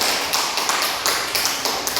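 An indoor audience claps for a presenter after a class group presentation, a dense, close burst of many hands with no voice over it.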